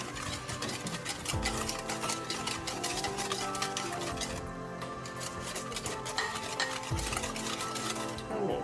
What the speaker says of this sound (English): We're going to mix her all up.